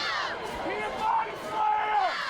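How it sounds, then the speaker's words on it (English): A football crowd at a high school game roars, and a lone spectator yells out loudly above the general hubbub in two rising shouts. "I heard somebody in the crowd just yell he body slammed him"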